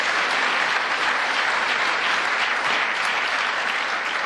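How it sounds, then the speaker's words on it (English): An audience at the Bloomberg Global Business Forum applauds after climate remarks: a loud, dense, unbroken wash of clapping that holds steady throughout with no voices over it. "he deserves a round of applause for that."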